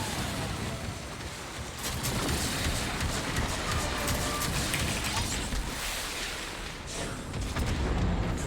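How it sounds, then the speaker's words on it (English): A ship reactor detonating in Warframe's Railjack space combat, heard as a sustained, loud rumbling roar with scattered booms and crackles layered through the whole stretch, without a single sharp blast standing out. "Ship reactor has detonated."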